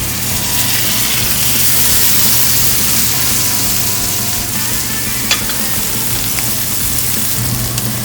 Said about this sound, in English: Want to hear this baby sizzle.